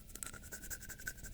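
Rapid, close scratching of a pen-like tip across a roughened plastic surface, a steady rasp with repeated short strokes and no voices.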